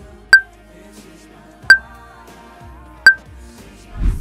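Three short, sharp electronic beeps at even intervals about a second and a half apart, a cue tone in a choir instructional recording, clear over near silence.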